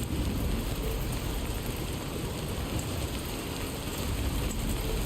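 Heavy, steady rain pouring down and hissing on surfaces, a constant dense wash of drops with no pauses.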